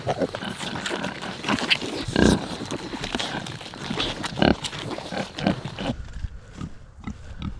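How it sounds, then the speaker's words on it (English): Pigs, a sow with her piglets, grunt and oink on a farm property in a lively, irregular run of close snorts and squeals, with a few louder bursts. "Hey pigs."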